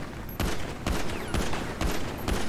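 Rapid bursts of gunfire in the video game GTA, several loud volleys firing in quick succession with short gaps between them, close and sharp.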